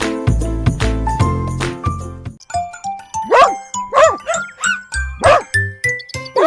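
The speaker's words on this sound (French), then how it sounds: "aboyait et remuait la queue de joie" A cartoon dog in a children's nursery rhyme barks happily in quick, bright yips over jingling, tinkling music, loud and close, with a rapid regular rhythm.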